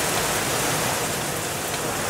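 Steady rain falls outdoors on a farm in Florida, a dense, even hiss that fills the whole clip without breaks or voices.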